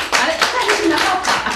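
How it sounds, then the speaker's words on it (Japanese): Close, loud clapping from an audience voting at a tai chi lesson event, a brief dense burst of hands clapping together with some voices mixed in. "僕酒井が良かったと思う人拍手お願いします"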